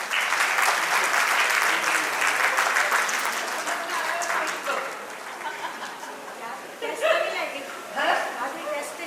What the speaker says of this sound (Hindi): आओ बड़ी तालियों से इनका स्वागत कीजिए